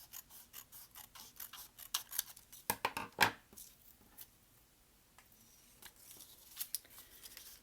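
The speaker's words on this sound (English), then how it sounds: "I'm cutting off a little bit off my strip" Scissors snipping a craft strip for a jellyfish weaving project, a series of quick faint cuts clustered in the middle, close and quiet.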